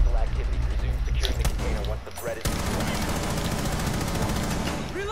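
Rapid bursts of automatic gunfire in a shooter video game, dense crackling shots running almost the whole time over a continuous bed of game noise, with players talking over it.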